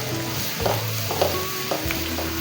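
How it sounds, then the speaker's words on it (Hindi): Ginger garlic masala fries in a pan for palak gosht while being stirred, with a steady loud sizzle broken by scraping strokes of the spoon at regular intervals. "ये देखिए हमारे अदरक लहसुन की बनाई बड़े अच्छे से हो रही है।"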